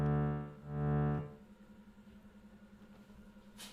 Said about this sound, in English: if I use a sine wave setting, that's going to swell it in and out